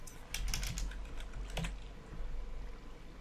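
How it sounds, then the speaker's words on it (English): Fast clattering keystrokes on a computer keyboard while playing Minecraft, close and crisp, in two bursts separated by a short pause. "I'm hitting all the wrong keys."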